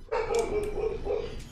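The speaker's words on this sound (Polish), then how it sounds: "Oczywiście piesem musiał się odezwać." A dog barks nearby, a loud run of three or four quick, tonal barks in close succession, heard alone with no speech.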